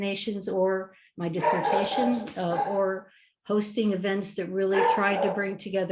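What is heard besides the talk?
dog barking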